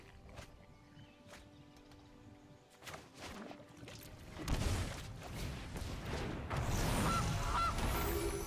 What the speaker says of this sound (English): Another goose